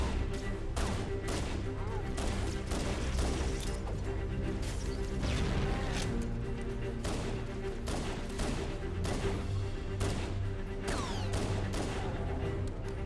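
Gunfire and impacts in Halo: The Master Chief Collection multiplayer, a dense game mix of repeated shots, crashes and effects running continuously under a music bed, with a voice talking over it.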